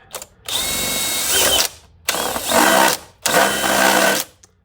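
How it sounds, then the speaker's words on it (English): Three bursts of a high-pitched whirring power drill, each running about a second, separated by short pauses, loud and close, during work on a 2009 Volkswagen Rabbit. "It's always best practice to drill towards your hand."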